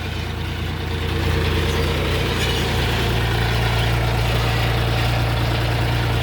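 A heavy DongFeng 244 diesel tractor engine, 24 horsepower, idles steadily close by, a constant low chugging rumble with no voices.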